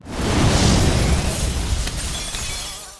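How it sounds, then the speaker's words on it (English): Film sound effect of a grenade explosion in a dinner-table scene: a loud, dense burst of noise with a shattering, debris-like texture that rolls on for a few seconds before fading. "then pulled the pin on a grenade."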